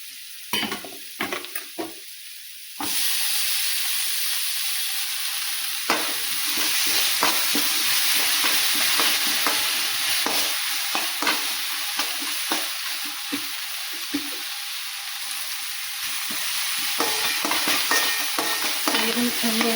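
Tomatoes sizzle and fry in a hot pan while being stirred for aloo paratha filling, a bright continuous hiss broken by repeated scraping stirs, starting after a few quieter clinks.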